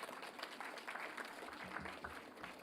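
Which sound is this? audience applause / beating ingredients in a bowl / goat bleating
audience applause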